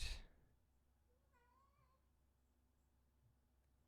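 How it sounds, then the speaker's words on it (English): A house cat lets out one short, faint meow, rising and falling in pitch, heard from nearby in a quiet indoor room with low background hum. "Well, my cat's here."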